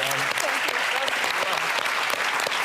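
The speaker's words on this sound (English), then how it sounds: "And I would also, Somi, I'd like to give you a round of applause for what you're doing." Studio audience applauding on a daytime medical talk show, a steady dense wash of clapping filling the whole stretch at even loudness, with faint voices blended underneath.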